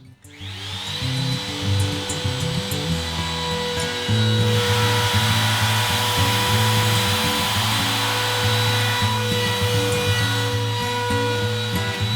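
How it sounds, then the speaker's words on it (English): Router fitted with a roundover bit shaping the top edge of a wooden bookcase base, a steady high motor whine with a rougher cutting drone as the bit bites into the wood, loud and continuous, no voices. "Now I'm going to use a roundover bit in the router and put a slight roundover on the top of the base."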